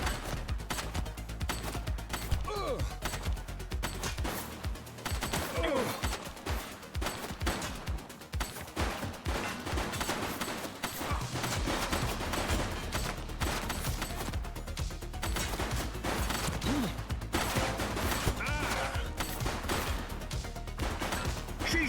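Gunfire in the police video game The Precinct, with bursts of shots and crashes packed into a dense, loud game mix alongside music and effects across the whole stretch.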